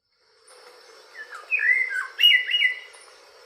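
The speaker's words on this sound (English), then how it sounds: "this blue and white mockingbird. It's also a great singer. I'm gonna play the call for you." A blue-and-white mockingbird, a Guatemalan highland endemic, sings a short string of clear, warbling whistled phrases played back from a recording, close and fairly loud with no voices.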